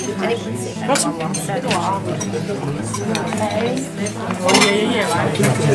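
A spoon stirs white sauce in a saucepan, giving clinks and scraping knocks against the metal under steady nearby talking.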